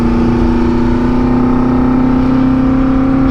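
A 1974 Honda CB400F four-cylinder motorcycle engine hums at a steady, loud pitch close by, a droning tone with no voices over it.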